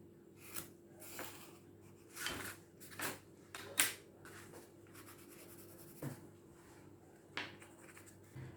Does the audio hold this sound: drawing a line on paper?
yes